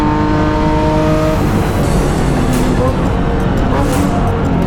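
Race cars in a BMW M-Performance Parts race series roar past continuously at close range, engines loud and steady, with a commentator talking over the engine noise throughout.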